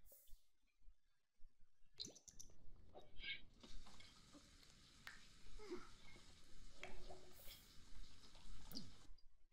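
Sim showering in The Sims 4, with quiet steady water spray starting after a short silence and running on softly with small clicks.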